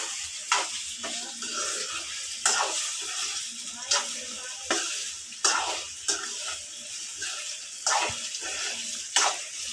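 Sliced okra frying in a pan for a home-cooked okra fry, a continuous hiss of oil broken by regular stirring scrapes every second or two, close and fairly loud.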